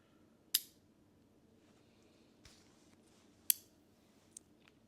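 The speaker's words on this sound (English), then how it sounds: "if you put it on the back, you hear that click?" A magnetic ND filter snapping onto a camera lens gives two sharp, close clicks about three seconds apart, with a few fainter taps after them in a quiet room.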